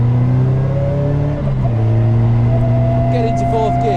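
A Caterham sports car's engine climbs steadily in pitch as it accelerates up through the gears, with a brief dip at a shift, loud and close from inside the car.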